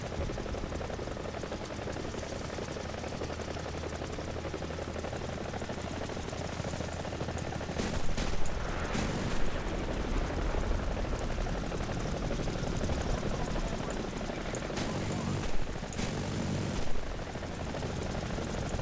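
A hovering helicopter in the game War Thunder, a dense, steady rotor and engine roar throughout, with a few sharp bursts of gunfire and impacts breaking through near the middle and end.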